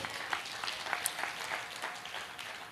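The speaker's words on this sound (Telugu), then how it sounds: "గట్టిగా చప్పట్లు కొడదాం" A gathering at a Telugu Christian sermon breaks into continuous applause, a dense wash of many hands clapping at moderate distance, fairly quiet and even throughout.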